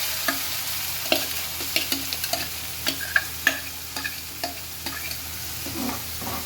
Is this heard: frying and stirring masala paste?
yes